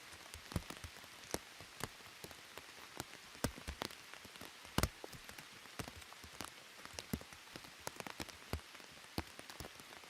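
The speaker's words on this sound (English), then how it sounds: "it's just going to pour down" Rain patters onto a hard surface, with sharp individual drops tapping irregularly over a soft, steady wash of falling water.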